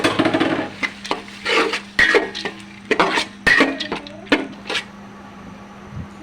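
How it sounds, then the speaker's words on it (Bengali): Masoor dal with spices and tomato stirred in a pan, a spoon scraping and clinking against the pan in irregular bursts over a low steady background hum. "আমি নিচ থেকে ভালো করে নাড়াচাড়া করে দিচ্ছি যাতে করে নিচে না লেগে যায়"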